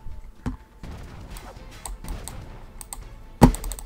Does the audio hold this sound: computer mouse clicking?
yes